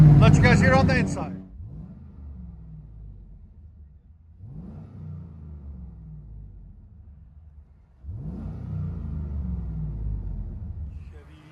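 Cabin view of a 1998 Chevy Camaro SS with a 5.7L V8 and Borla axle-back dual exhaust: a deep, rumbling engine rises in three separate revs, the last held longest, after a brief opening stretch of talk.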